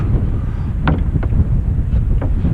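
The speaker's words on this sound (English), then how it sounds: "So, it's windy." Wind buffets a microphone outdoors at a curbside street scrapping spot, a loud, steady low rumble throughout with a few faint brief knocks.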